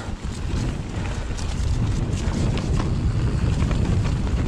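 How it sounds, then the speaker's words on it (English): A breeze buffets a GoPro fitted with a foam wind cover during a mountain bike ride at Afan bike park, a steady low rushing roar with soft gusty swells that carries on without pause and no talking. "Oh, that's a nice breeze blowing."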